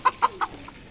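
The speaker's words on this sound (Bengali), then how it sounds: "এটা দেশি মোরগ, একটা মুরগি" A native rooster and hen give three quick, sharp clucks in a row, followed by a softer fourth, fairly faint and close with a quiet background.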